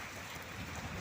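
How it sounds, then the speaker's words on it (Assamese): Heavy rain falling outdoors under a darkened sky, a dense, steady hiss of drops close by, continuous and fairly faint, with no voices. "আমাৰ ইয়াতে বহুত বৰষুণ দি আছে"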